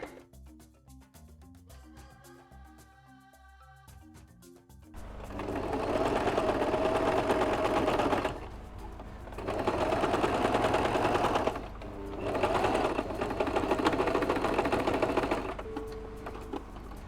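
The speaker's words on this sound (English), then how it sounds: "I'll sew it round and then I'll turn it to the front so you see what it looks like" A sewing machine stitches round the hem of a simple kimono-sleeve shift dress, loud and steady in long runs broken by short pauses, after a quieter stretch of handling at the start.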